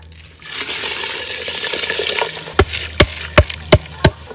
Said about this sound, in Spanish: Ahora voy a echar mi arroz,